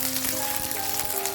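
Mustard seeds, curry leaves and chopped green chilies sizzle in hot oil, a dense continuous crackle with small pops, close and steady throughout.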